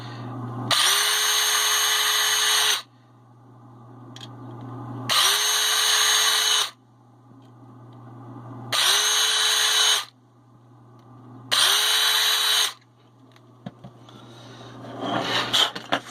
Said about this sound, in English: you want to make sure you have a real good drill bit, a real sharp brand new drill bit